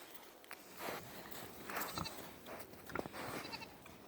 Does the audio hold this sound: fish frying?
no